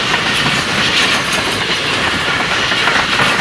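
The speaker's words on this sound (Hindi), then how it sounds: "ये आ गई डाउन की एक ट्रेन HGMU 30 साथ है।" Karachi Express train rushing through a station, a loud continuous roar with rattling wheels over the rails and no voices.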